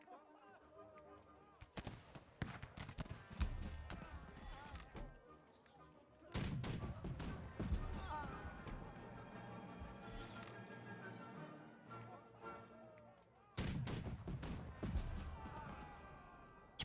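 Musket volleys and cannon blasts from a Napoleonic-era battle in the strategy game March to Glory, with loud bursts of gunfire near 2, 6.5 and 13.5 seconds over continuous battle din.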